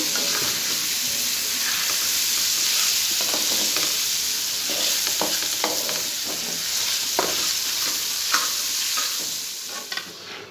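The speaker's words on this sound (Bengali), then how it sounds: "এর পাশে চলে ভাজি হচ্ছে" Vegetable bhaji frying in a pan, a steady sizzle with scraping stirring strokes recurring close by, no talking.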